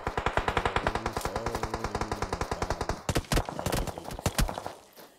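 Rapid, steady bursts of gunfire from the right during a practical shooting game, loud and close, followed by sharper, irregular shots toward the end.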